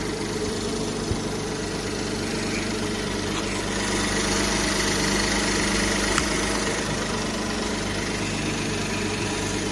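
The 3.0-litre petrol engine of a 2015 Hyundai Grandeur HG with 156,000 km idles with a steady, even hum, loud and close, with no talking.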